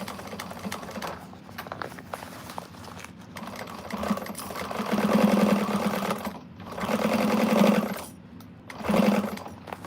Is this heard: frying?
no